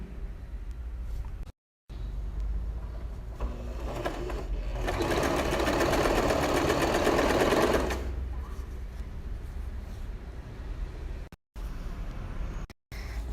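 A domestic sewing machine runs a second seam along a fabric ruffle for a child's dress, a close, steady whirring buzz that swells louder midway, while someone talks over it and brief silent gaps break the sound.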